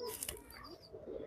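A racing pigeon coos softly and briefly at close range, with faint rustling around it.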